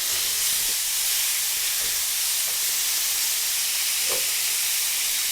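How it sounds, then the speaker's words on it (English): Beef tips sear in a hot pan for beef tips and gravy, making a loud, steady, even hiss throughout, with a few faint clicks underneath. "You want to get that good sear on there."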